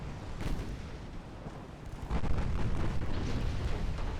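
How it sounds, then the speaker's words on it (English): Torpedo detonation in the naval warship game Ultimate Admiral Dreadnoughts: a deep, rumbling explosion swells after a couple of seconds into a sustained, loud roar with no talking. "Torpedo detonation."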